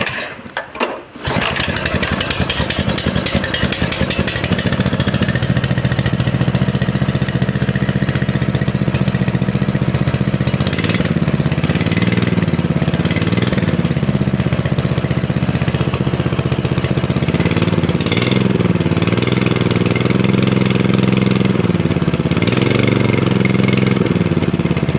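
A small petrol engine, started with the fuel on and the choke closed, catches after a brief crank and then runs steadily and loudly at close range for the rest of the time, its idle wavering slightly.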